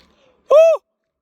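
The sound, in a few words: shout echoing back at Echo Point, Munnar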